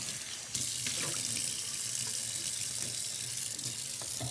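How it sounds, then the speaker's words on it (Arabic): Tap water running into a kitchen mould, starting abruptly and then pouring steadily as a loud, hissing splash with small clinks, no voices over it. "نحط فيه شوية ماء نظيفة"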